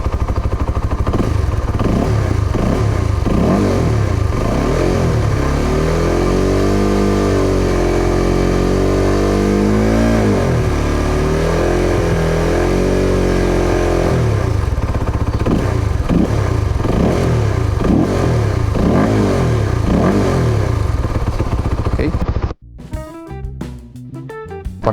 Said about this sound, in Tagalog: Yan ang tunog ng makina. I-rev natin ng kaunti.